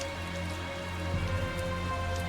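Rain falling in the game Tales of Zestiria, a steady patter over a low hum of background music, continuous and moderately loud with no talk.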